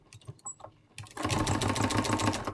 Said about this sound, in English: so I'm sewing on that fold line